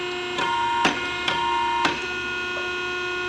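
An RCP 8546 A4 double-head cylinder end forming machine cycles with several sharp mechanical clanks over a steady tonal hum, impacts spaced irregularly and heard up close without speech.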